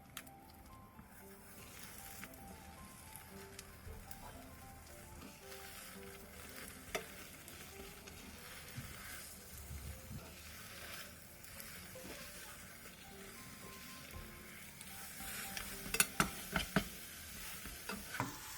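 A rolled egg omelette with sliced ham and seasoned seaweed cooks in a pan, giving a quiet, steady sizzle with occasional soft taps and scrapes, heard alone without any voices.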